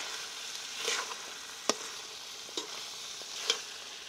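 Pumpkin curry cooking in a pan under a low, steady sizzle, with a few distinct spoon scrapes and taps from occasional stirring, close and fairly quiet, no talking.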